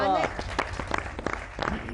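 Studio audience applause on a Pakistani television comedy show, brief scattered clapping that starts after a voice and stays mixed with talk and background noise.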